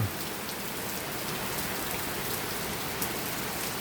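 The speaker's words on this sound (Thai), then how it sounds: "เนี่ยฝน" Steady rain falls on surfaces on a rural road near a temple, a dense, even hiss of drops with no voices and no pauses.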